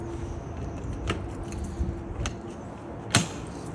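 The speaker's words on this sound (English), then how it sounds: "Gonna have to get my key out and unlock the door." Keys jangle while the door of a 2023 Palomino Real-Lite SS-1609 truck camper is unlocked outdoors, faint metallic clinks and a few sharp clicks of the lock over low background noise.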